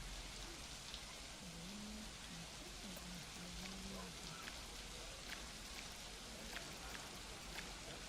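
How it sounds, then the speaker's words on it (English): Steady rain falls in the Planet Coaster 2 video game, a soft, even hiss with no letup, faint and constant throughout. "Looks like heavy rain to me."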